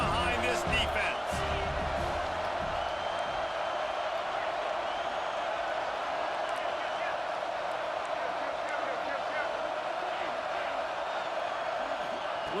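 A football stadium crowd roars steadily for the defense on a big third down, a dense, sustained wall of cheering that continues throughout, with commentary voices over it.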